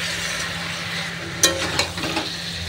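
Gentle sizzling of a vegetarian curry of pointed gourd, pumpkin and long beans sautéing in a pan, with a few clattering stirs and scrapes of a spatula midway.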